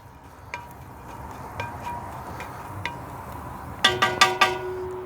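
Garlic sizzling in a hot pan on a Weber grill for a vegetable stir fry: a low steady hiss with scattered small ticks, then a few loud metallic clanks of stirring near the end.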